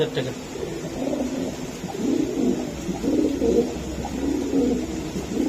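Racing pigeons coo in soft, repeated low rolling calls close by, running steadily beneath someone talking.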